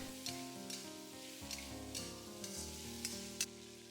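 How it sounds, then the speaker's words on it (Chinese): Green peppers stir-fried over high heat in a wok, a continuous loud sizzle with crackling bursts and the rhythmic scrape of a spatula tossing them, no voices. "再把青椒下锅煸炒，开大火给它翻炒"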